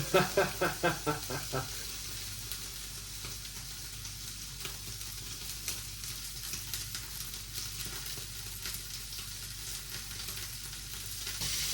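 A big rump steak hits a hot pan and settles into a loud, continuous sizzle, with a few rhythmic knocks at the start and a steady frying hiss after.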